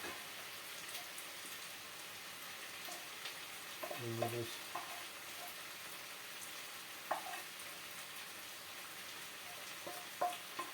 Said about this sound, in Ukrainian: А картопля хай смажиться.